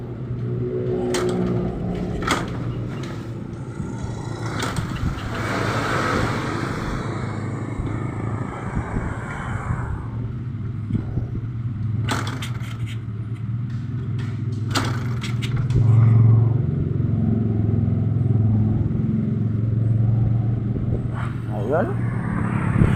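A Bajaj CT100 motorcycle engine runs on test in a workshop, a steady low idling drone that grows louder near the middle, with a person talking over it and occasional clicks and clanks.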